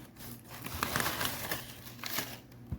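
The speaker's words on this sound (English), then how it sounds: "A little bit of packing paper." Packing paper crinkles and rustles up close in short, soft bursts, with faint handling noises and no voices.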